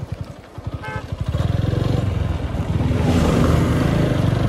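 A TVS 4V Xconnect motorcycle engine revs up from a low idle putter into a loud, sustained high-speed roar, heard close and steadily climbing during a top-speed run.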